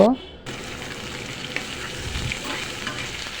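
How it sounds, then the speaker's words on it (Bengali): Slices of green banana sizzle in hot oil already used for frying fish, with a brief clatter as they go in, then a steady, close crackling fry. "এই যে একই তেলে আমি এখন কলাগুলোও ভেজে নেব।"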